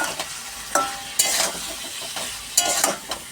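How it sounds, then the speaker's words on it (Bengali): A vegetarian curry of drumstick, potato and pointed gourd fries in ground ginger, cumin, tomato and green chili paste. Near, scraping stir strokes sound in a few uneven bursts over a soft sizzle, with no talk. "আর সজনেটা আলু পটল দিয়ে নিরামিষভাবেই তরকারি করছি।"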